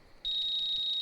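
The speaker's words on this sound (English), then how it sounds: "I heard two different alarms go off at the same time." A fishing bite alarm in the video game Russian Fishing 4 at Amber Lake sounds as one steady, high electronic tone that starts abruptly and holds, fairly loud and close, with no voices.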